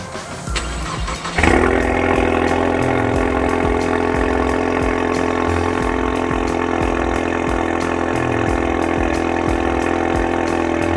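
A Barra engine swapped into a Lexus IS300 cranks and catches, then settles into a steady, loud, close idle with a regular low pulsing throb for about nine seconds, with no voices.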